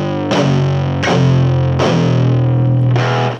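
Heavily overdriven, fuzzy electric guitar through a cheap amp turned up to 10, with four sustained chords struck in succession, each ringing out loud and thick with no talking.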